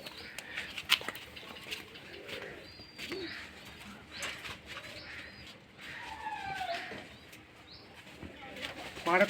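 Teddy pigeons coo softly in a busy loft, low throaty calls mixed with occasional chirps and a brief flutter of wings, while someone talks over them.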